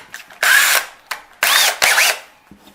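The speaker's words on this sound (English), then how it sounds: "My favorite choice of drill bits is a Forstner bit. And I'll drill this hole" A Forstner bit bores into wood in short, loud bursts, whining up and stopping several times in quick succession, close by, enlarging the eye hole of a carved decoy.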